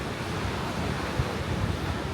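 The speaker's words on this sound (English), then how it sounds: "It is very windy today" Steady, roaring wind on a summer beach at Torre Abbey Sands, Torquay, buffets the microphone with continuous broadband rumble and no gaps, close and loud throughout.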